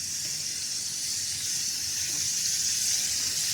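Skin-on potato chips fry on medium heat in a pan, giving a steady, dense hiss and sizzle that stays close and even throughout.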